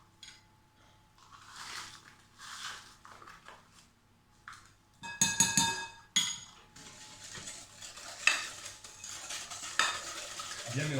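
Sugar is being mixed into cake batter with a utensil: soft intermittent scraping first, then louder, busier stirring and clinking against the bowl, continuing without pause near the end.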